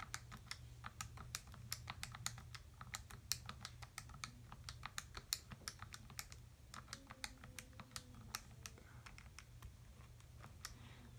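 Calculator keys pressed to enter statistics data, a run of quick, crisp plastic clicks in an irregular rhythm, close and fairly quiet over a low background hum.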